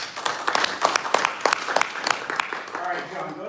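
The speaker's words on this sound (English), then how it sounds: "All right, let's give him a big round of applause." Scattered clapping from a small audience at a Toastmasters open house, short and uneven, with a voice talking over the end.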